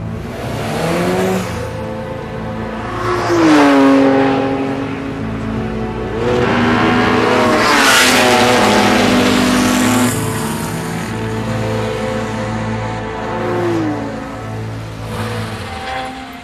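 Several cars race at speed around a public German track open for paid laps, engines rising and falling in pitch as they pass close and loud, with shifting revs and overlapping passes throughout.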